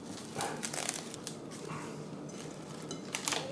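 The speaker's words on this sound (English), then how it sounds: "just put a cellophane over it" Cellophane crinkles and rustles while being spread over kneaded dough, a steady close crackle with a few sharper crinkle bursts and no talking.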